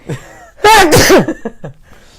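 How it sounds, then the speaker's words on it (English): A loud sneeze close by, preceded by a sharp inhale and followed by a few soft breaths. "I gotta sneeze for some reason."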